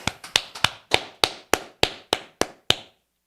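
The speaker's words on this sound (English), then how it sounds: "All right, clap it up." One person claps about ten times at a steady, brisk beat during a Wednesday law class in Durham. The claps are crisp and close, with nothing else around them, and silence follows.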